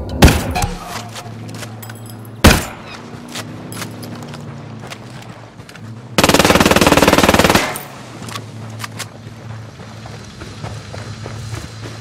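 Gunfire in the Ghost Recon Wildlands video game: one sharp, loud shot, then a long, dense burst of automatic fire over steady game ambience and scattered footsteps.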